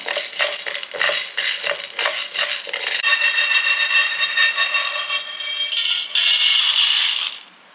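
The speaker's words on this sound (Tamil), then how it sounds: "இதை ஒரு கப்பை போட்டு நல்லா வறுத்துக்கணும் நல்லா பொறு பொருன்னு வறுத்துக்கணும்" Sago flour dry-roasts in a pan while a metal spoon stirs it briskly, making close, loud, rhythmic scraping and clinking against the metal that runs on steadily with no talking.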